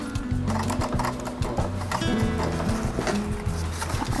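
A sewing machine stitches a tote bag in rapid mechanical bursts, with short pauses as the fabric is turned at curves, running close and loud with no talking.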